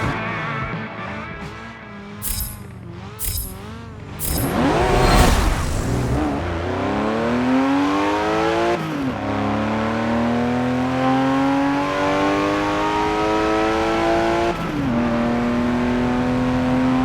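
A 1982 Porsche 911 Turbo 3.3 in Forza Motorsport 7 drag racing, its engine revving loud and close, climbing in pitch through repeated gear changes with a harsh burst of tire and engine noise early on, no talking.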